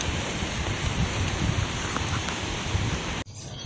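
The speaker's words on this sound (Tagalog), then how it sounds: "bigla pong umulan ng malakas" Steady heavy rain pours onto leafy yardlong bean plants on a farm, a dense continuous hiss that cuts off abruptly near the end before softer rain resumes.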